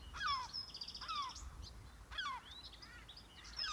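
Birds calling outdoors beside water, a mix of clear whistled notes, rapid chirps and harsher crow-like calls repeating in quick bursts, fairly faint over low rumbling background noise.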